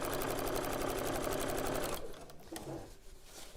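A sewing machine stitching a seam, running as a close, fast, steady mechanical chatter for about two seconds, then stopping, with a few faint clicks and handling sounds after.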